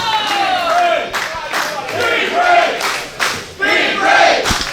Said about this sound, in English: This crowd coming alive, showing their support for the Big Red.